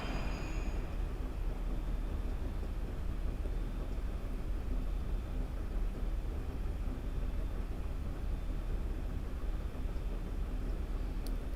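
A train rumbling along the track, a steady dense roar of rolling wheels and car noise at an even, loud level for about twelve seconds, with no voices.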